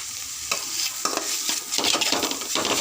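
Steady sizzling of a stir-fry in a hot pan after black pepper goes in, with a utensil scraping and tossing the food in repeated strokes, close and continuous.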